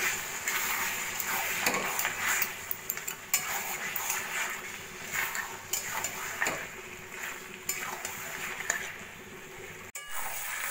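Mutton curry mixed with meat masala is stirred in a pot, a spoon scraping and clinking in repeated strokes over a faint background sizzle, fairly close.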